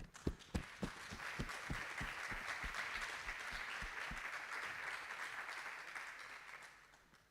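An audience at a startup pitch competition breaks into applause, a few loud separate claps at first swelling into a sustained, fairly distant burst that fades out toward the end.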